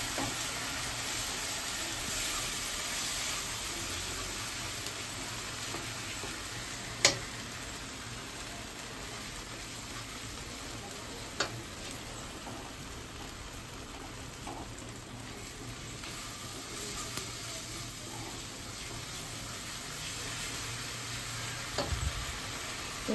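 Pointed gourd korma with poppy seed paste, cashew paste and green chili paste cooking on low heat in a pan: a steady, close bubbling sizzle, with occasional faint clicks and a thud near the end.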